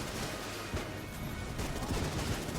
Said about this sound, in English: when I activate the ring of triggers, we actually get commando homing rockets instead of just shots from the